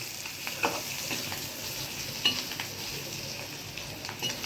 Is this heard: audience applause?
no